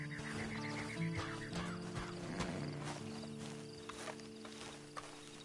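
Horse hooves clip-clopping at a walk in the video game Red Dead Redemption 2, a soft irregular patter beneath a steady ambient game soundscape with tonal background hum.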